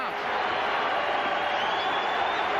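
A packed college basketball arena roars at a 1986 North Carolina at Maryland game, a dense, sustained crowd cheer with no breaks, under a commentator's voice.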